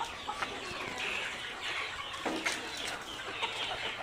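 Layer hens in laying cages on a poultry farm give off a steady, busy clucking chatter, with brief sharper calls rising now and then over a dense, continuous flock murmur.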